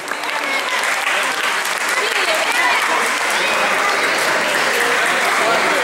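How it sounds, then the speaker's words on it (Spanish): A live show audience in Mallarauco gives loud, sustained applause for the performer Lalo Catalán, a dense, steady wash of clapping with crowd noise that holds unbroken from start to finish. "Reiteremos el aplauso para este gran artista meridiano, Lalo Catalán"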